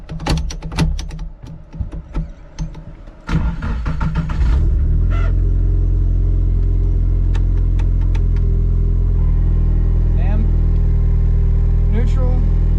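A car fitted with a newly installed S1 sequential gearbox starts with clunks and clicks. Its engine then settles into a loud, steady drone close by, with a few brief clicks and muffled voices under it.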